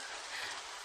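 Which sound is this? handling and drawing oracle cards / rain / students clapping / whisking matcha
rain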